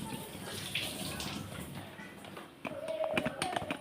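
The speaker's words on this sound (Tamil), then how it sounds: "அதுக்குள்ளே 2 பச்சை மிளகாய் நல்லா கழுவிட்டு போட்டுக்கலான்னு பார்க்குறேன்." A kitchen tap runs steadily while two green chillies are washed under it for a fish curry, giving a close, constant splashing rush with small shifts in the flow toward the end.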